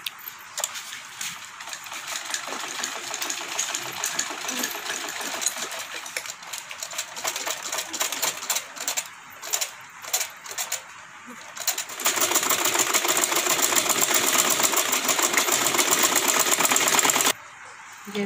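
A sewing machine stitching fabric for children's Eid clothes, heard as a steady fast mechanical whirr that runs near-continuously, louder in the second half, with brief pauses.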